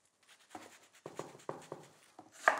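A knife taps rhythmically on a cutting board as an onion is sliced as finely as possible, a series of crisp close chops with a louder final cut.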